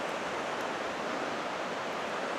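Two mountain creeks meet in Kananaskis, and the water rushes in a steady, even wash of noise with no breaks.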